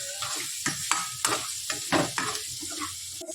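A spoon stirs potato curry with coriander powder in a hot pan, making repeated scraping strokes over a soft sizzle of frying, close and fairly loud with no talking.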